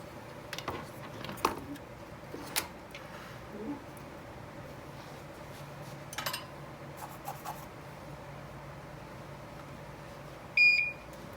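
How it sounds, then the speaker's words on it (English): A soldering station, used while servicing an HP 5334B frequency counter, gives a short electronic beep near the end to signal it is up to temperature, after scattered workbench clicks and taps in a quiet room. "Pardon the beep, that's just the soldering station telling me that it is up to temperature."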